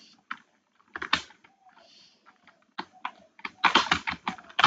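Close computer keyboard typing in uneven bursts, scattered single clacks early on building to a dense, loud flurry of keystrokes near the end.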